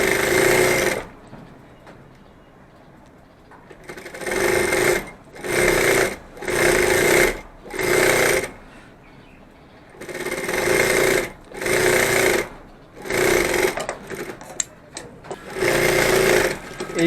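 A sewing machine stitching fabric runs in about eight rapid, rattling bursts of a second or so each, separated by short quiet pauses, close and loud.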